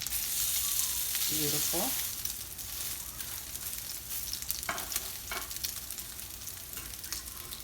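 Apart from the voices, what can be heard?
crab cakes frying in oil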